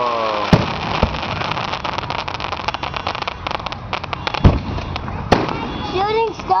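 Fireworks bursting outdoors at a night display, sharp loud bangs at irregular intervals with crackling and whistling shells in between, while people talk and react over the noise.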